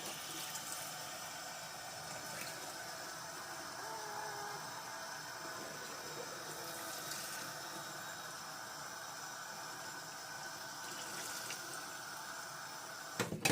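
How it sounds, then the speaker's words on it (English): A warm water tap runs steadily in a home kitchen while baking, a continuous soft rush of water with a low hum underneath and a few clicks at the end. "now I need to warm water."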